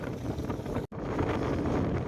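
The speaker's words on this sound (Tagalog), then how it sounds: "Sobrang lakas ng hangin." Strong gusty wind buffets the microphone of a solo bicycle rider on a North Luzon road loop, a loud rough rumble throughout with a momentary dropout near the middle.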